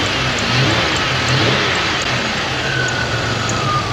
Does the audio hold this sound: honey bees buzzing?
no